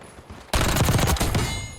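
Rapid bursts of video game gunfire from a first-person shooter, a dense rattling volley that cuts in abruptly after a quiet moment and stays loud and continuous to the end.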